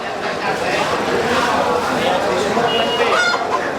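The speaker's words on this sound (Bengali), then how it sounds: "দেশি মোরগ কত করে আজকে" Local roosters and hens cluck amid the busy noise of a village market, faint brief calls lost in steady crowd hubbub and nearby talk, with a short crow-like call near the end.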